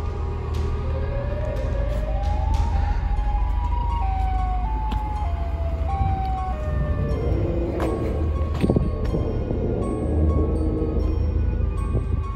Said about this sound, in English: A food worker paces around outside on his break when he hears a siren.